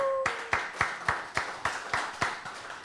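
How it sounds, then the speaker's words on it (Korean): Audience at a Korean church health lecture breaking into rhythmic applause, about ten sharp, evenly spaced claps in unison at a steady pace, loud and close, with a brief tone just before it starts. "박수 박수"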